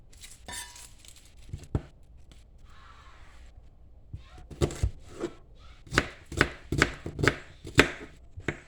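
A knife chops sweet onion on a cutting board, sparse sharp taps at first, then a quicker run of crisp, close chops, with faint kitchen background between strokes.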